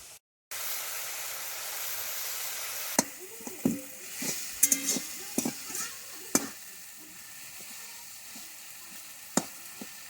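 Water poured into hot frying masala for a rural fish and tomato curry makes a loud sizzle and hiss, punctuated by sharp splashes and spatters from the pan, with steady frying continuing beneath.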